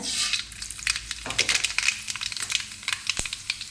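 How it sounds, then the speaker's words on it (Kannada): Mustard seeds crackle and sizzle in hot coconut oil in a pan, a dense burst of popping and spattering close up that thins into scattered sharp pops. "ಎಣ್ಣೆ ಬಿಸಿಯಾಗಿದೆ ಸಾಸಿವೆ ಹಾಕ್ಕೊಡ್ತೇನೆ"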